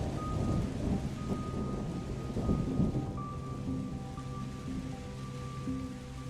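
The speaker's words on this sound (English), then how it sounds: "can barely hear anything over the tinkling of the will-o'-the-wisp and the crashes of thunder." Rumbling thunder crashes with steady rain form a tabletop fantasy storm ambience, with faint tinkling tones drifting over the low roar and no voices.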